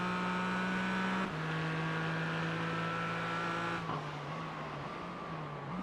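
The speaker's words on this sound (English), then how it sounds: "This is Porsche versus AMG Mercedes." Porsche and AMG Mercedes race cars lapping the Long Beach street circuit, a loud, sustained engine drone with shifting pitch and brief gear-change drops, close and continuous with no talk.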